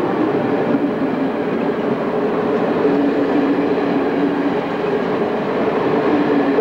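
A Hungarian passenger train rolls along steadily on the line from Budapest Nyugati toward Kismaros, a continuous rumbling roar with a low hum, loud and close throughout.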